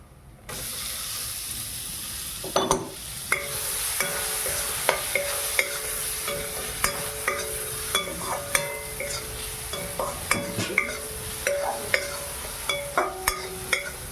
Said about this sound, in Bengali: ভালো করে টমেটোগুলো ভালো করে কষিয়ে নেব